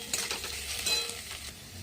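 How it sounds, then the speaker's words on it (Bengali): Sliced onion and potato sizzling together in an oil-filled pan while being stirred, a steady crackling fry with light scraping strokes, close and moderately loud, no talking. "পেঁয়াজটা আলুর সাথে ভালো করে ভেজে নেবো।"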